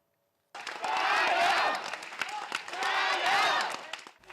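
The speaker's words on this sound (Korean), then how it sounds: "편집을 끝낸 사무실엔 박수 소리가 울렸습니다" Newsroom staff at a Hong Kong newspaper office applauding after finishing the final edition, a dense burst of clapping and cheering that rises, dips briefly, then swells again, moderately loud.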